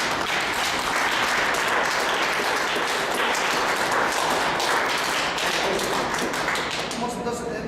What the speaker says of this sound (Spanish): Vamos a dar palmas fuertes a Dios.